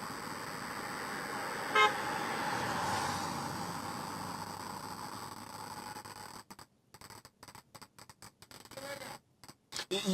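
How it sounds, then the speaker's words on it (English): Road traffic at a city street during a protest, a steady broad rumble of moving cars with one short horn toot early on, then the roar breaking up into choppy dropouts; no clear talk. "we see vehicles moving behind you"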